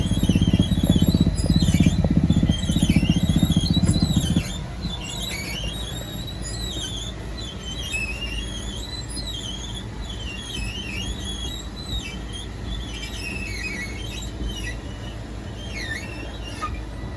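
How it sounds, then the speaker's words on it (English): Slide-out motors on a 2020 Forest River Sunseeker 2250SLEF RV give a steady motorized whine and rumble throughout, louder and lower at first, then easing into a thinner mechanical hum with squealing overtones. "Once fully extended, you're just going to hear the motors wind up and cut out."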